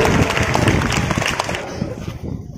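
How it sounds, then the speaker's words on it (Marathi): Students and audience at a seventh-grade maths quiz competition clapping for a correct answer, a loud burst of close applause that thins and fades out over a couple of seconds. "टाळ्या झाल्या पाहिजे."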